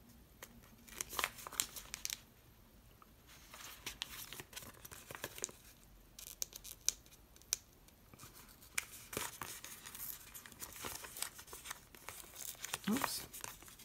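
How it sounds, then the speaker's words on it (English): Planner stickers being peeled off a kit sheet, giving repeated soft crinkling, tearing and rustling bursts at close range with uneven pauses between them. "I'm going to have one sticker that doesn't want to come off"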